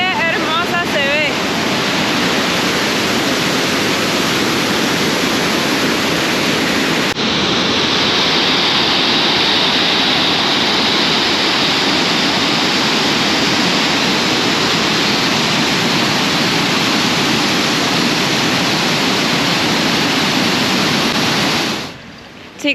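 A waterfall in Parque Nacional La Llovizna, Venezuela, roars as a loud, unbroken rush of water, with some wind buffeting and no clear talking.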